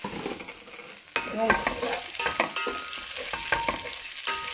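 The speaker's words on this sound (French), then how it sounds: "je vais faire revenir tout ça." Vermicelli and onion sauté and sizzle in a hot pan while being stirred, a steady close frying hiss with scraping stirs throughout and a brief spoken word near the start.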